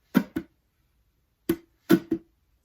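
Muted strums and right-hand slaps on an acoustic guitar body, without left-hand slaps: five crisp close percussive hits in two groups separated by a brief pause, played alone.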